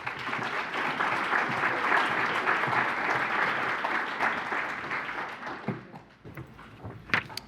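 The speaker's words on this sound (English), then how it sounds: "Round of applause, please" Crowd clapping at a county hall of fame gala as a committee president is introduced; sustained applause fades out toward the end, leaving a few scattered claps.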